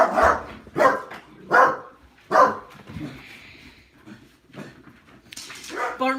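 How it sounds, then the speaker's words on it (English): Dog barks outdoors, four loud, spaced woofs followed by quieter whimpering and yips, with a faint hum behind and a final yelp at the end. "There's a dog outside."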